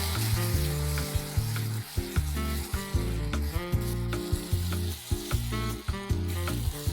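Chili paste sautéing in a pan for homemade Indo-Chinese Schezwan sauce, a continuous loud sizzle and fry with recurring scraping stirs under faint background music, no talk.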